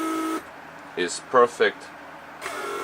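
A Mercedes S-class door lock vacuum pump, repaired and running on a bench test through lock and unlock cycles, gives a steady electric hum that drops out briefly while someone speaks, then starts up again.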